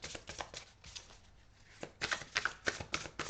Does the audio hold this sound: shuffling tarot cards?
yes